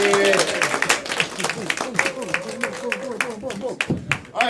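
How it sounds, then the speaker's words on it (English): An audience claps as game-show players return to the room at a live event, scattered sharp claps and cheering under overlapping excited voices. "And then clap as they come back"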